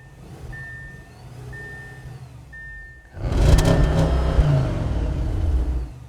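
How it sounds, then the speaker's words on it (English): An Audi S6 engine revs hard after a quiet idle with faint beeping, then holds a loud, broad exhaust roar that swells and settles, heard close and without talk. "let's check out the exhaust sound for the Audi."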